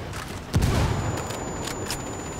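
Mortar fire in the video game Ghost Recon Wildlands: a single heavy boom strikes suddenly and rolls out into a rumbling tail, with faint crackle behind it.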